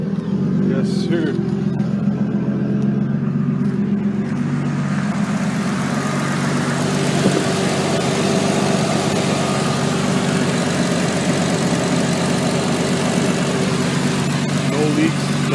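A Nissan Skyline R33 engine, just after a fuel filter change, runs at a steady idle with a continuous low rumble that holds throughout, with a voice speaking briefly near the start.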